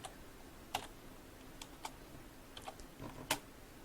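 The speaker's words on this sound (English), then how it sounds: "I can just click exactly where I want to insert that monthly and type in monthly." Typing on a computer keyboard, a handful of sparse, faint key clicks spread out over a few seconds, the last press slightly louder, against a quiet room hiss.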